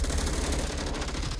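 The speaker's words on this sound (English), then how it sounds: "More gunshots fired from Small Bazaar" Rapid bursts of automatic gunfire in the VR shooter Onward during a competitive match, a dense fusillade of shots fired near and loud for the whole moment.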